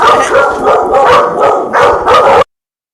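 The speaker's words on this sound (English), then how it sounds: "until the dogs calm down" Several dogs bark and yip in close, rapid bursts, loud and continuous for about two and a half seconds before cutting off abruptly.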